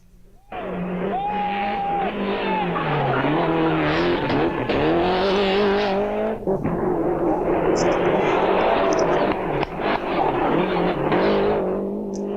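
A Toyota Celica ST185 Group A rally car races on tarmac, its engine loud and close, rising and falling through shifts with brief throttle lifts across the run.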